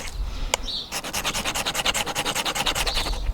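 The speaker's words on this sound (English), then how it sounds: "Of course you're going to scrape this metal coating off the ferro rod." A knife scrapes the metal coating off a magnesium ferro rod in quick, rhythmic rasping strokes, close and loud, after a couple of single scratches at the start.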